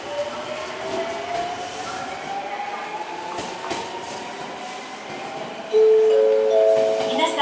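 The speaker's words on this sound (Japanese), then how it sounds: "まもなく3番乗り場に電車が到着します。" A Nankai/Semboku line train rumbles into Nakamozu Station, with wheel and rail noise building steadily and a steady high tone near the end.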